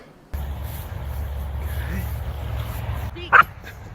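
Trained dog giving a sharp bark on cue near the end, brief and close, after a stretch of low background rumble and a faint whimpery noise.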